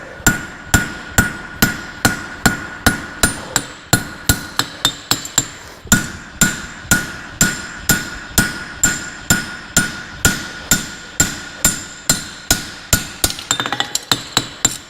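A blacksmith's hammer strikes metal on an anvil in steady, evenly spaced ringing blows, about two to three per second, loud and close throughout with no talking.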